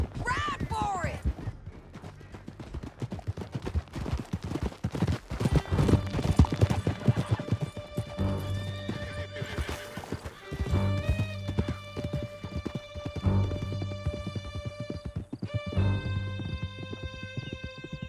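A horse gallops under a rider in the video game Red Dead Redemption 2, with steady rhythmic hoofbeats, occasional neighs, scattered gunshots and music over a long stretch.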